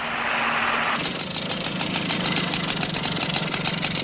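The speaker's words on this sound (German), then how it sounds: "Der arme Motor lässt jetzt seine ganze Wut aus." A car engine runs steadily and loud up close, a rough, knocking rumble that shifts to a harsher, busier pitch after a second, as if revved, with no talk over it.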